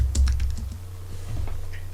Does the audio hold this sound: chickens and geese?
no